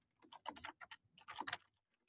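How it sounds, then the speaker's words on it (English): Fast bursts of keystrokes on a computer keyboard, typed in two quick clustered runs with a brief pause between, close and clear with no talking over them. "Whoa, typing today."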